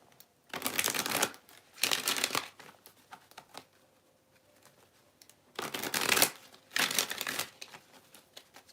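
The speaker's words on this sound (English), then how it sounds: "I'll pull a money card for y'all." Tarot cards being shuffled in four brisk bursts of riffling and flicking, close and fairly loud, with quiet pauses between them and no talking.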